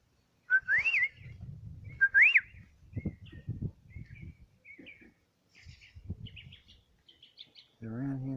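Clear rising whistled notes repeat twice, then shorter chirps and warbles follow outdoors, with low murmuring talk underneath; the birdlike whistling may come from a person imitating the birds.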